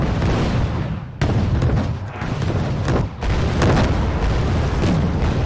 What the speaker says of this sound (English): he's firing all of his missiles